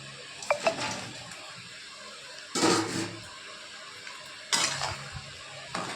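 Fried soybean chunks tumble into a pan of chilli soybean gravy base, with three separate bursts of clattering and frying as they are added and stirred, between quieter stretches of low sizzle.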